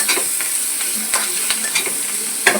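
Masala paste with coriander powder and garam masala is stirred in a hot pan for Andhra fish fry, making a close, continuous sizzle broken by several sharp scraping strokes of a spatula.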